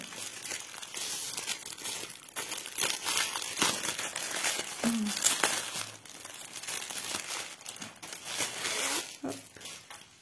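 A cross stitch diamond art kit package being unwrapped, giving continuous close crinkling and crumpling of plastic with occasional tearing, steady and fairly loud, no talking.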